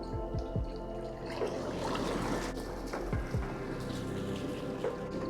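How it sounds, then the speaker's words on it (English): Hot tub spa jets running after an oxidizer treatment, churning and bubbling the water steadily under a low motor hum, close and continuous with a few knocks at the start. "And I'm going to turn the jets up."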